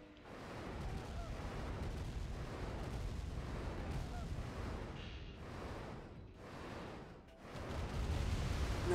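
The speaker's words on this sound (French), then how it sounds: "j'attends juste que mon canon à ion soit prêt dans quelques secondes pour lui flinguer sa tour là" Ion cannon strike from C&C Remastered blasting an enemy tower, heard as a sustained series of heavy, rumbling booms and explosions that swell and dip repeatedly, loud and dense, with no speech.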